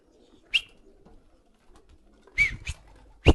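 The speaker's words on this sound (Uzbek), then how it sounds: "Chiqaring aka kaptarlar" Several pigeons being let out give short bursts of cooing and wing sounds, a single call near the start and a cluster of louder calls toward the end, against a quiet outdoor background.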